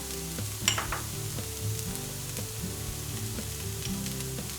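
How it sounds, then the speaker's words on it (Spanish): Pepper, turmeric and cumin sizzling steadily in a pan for a vegan pumpkin pasta sauce, with occasional scraping stir strokes over the continuous frying hiss and no talk. "y removemos bien para que desprendan los olores"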